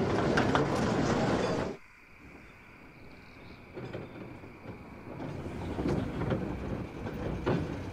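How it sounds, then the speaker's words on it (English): A diesel locomotive train rumbles loudly then drops to a quieter hum as it slows into a large station, with a faint high whine and rising rolling noise of carriages settling in. "After a peaceful run, BoCo arrived at the large station the train was scheduled to stop at."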